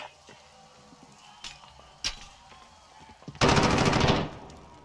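A near, loud burst of automatic gunfire lasting about a second in a war video game, preceded by a few scattered distant shots and thuds.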